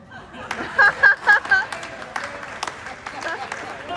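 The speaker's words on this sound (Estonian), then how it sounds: "Palju õnne, teeme aplausi!" Audience applause at a hunters' society gathering, a faint, steady patter of clapping beneath louder bursts of amplified speech from a presenter.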